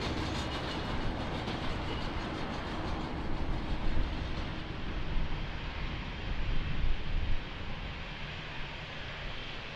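A Boeing 767 landing at Lisbon Airport, heard as a broad, steady roar of engines and airflow at moderate distance that swells slightly in the middle and fades toward the end.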